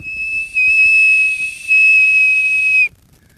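A handmade ash wood whistle blown in two long steady blasts with a brief dip between, a pure high tone with faint overtones, close and loud, then silence.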